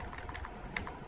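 Quick typing on a computer keyboard, a short run of soft, close key clicks in an even rhythm.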